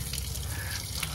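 Water sprays in a steady hissing rush over toy trucks, a mixer truck, excavator and bus being washed, loud and continuous with no voices.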